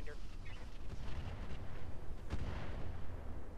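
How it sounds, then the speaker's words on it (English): ATM missile weapons fire in the Roguetech video game as a series of booming, explosive launches and impacts over a rumbling background, with a voice talking over them. "We're going to fire the ATMs on him."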